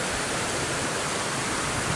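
Heavy rain pouring down steadily, a dense, loud, continuous hiss with no voices.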